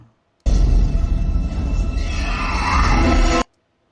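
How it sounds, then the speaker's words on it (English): A harsh, sustained screech from Nitara, the winged vampire fighter of the Mortal Kombat video game, starts abruptly and holds loud and rough for about three seconds before it cuts off into silence. "They're saying that's Nitara's screech."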